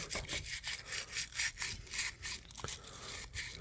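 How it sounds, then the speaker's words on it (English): An improvised brass brush scrapes around inside the handle cavity of a vintage Imperial Kamp King camp knife, making a quiet, close, rhythmic back-and-forth scratching of about a dozen quick strokes with no voices. "so I can use my improvised brass brush down in here and scrape around down in there."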